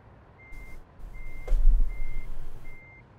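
Truck reversing alarm in American Truck Simulator while parking in the city of Carlsbad: four evenly spaced high beeps over a low engine rumble, with a brief hiss and thud midway.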